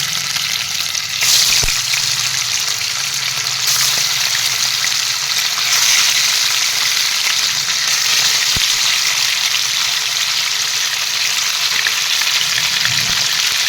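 Fish pieces fry in hot oil in a pan, a steady, loud sizzle that runs unbroken throughout, with a couple of brief clicks of a utensil and no talking.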